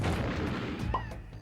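An orange grenade thrown and exploding in Donkey Kong 64, a short booming burst with a ringing electronic tone and game effects over a dense low rumble, lasting about a second and a half.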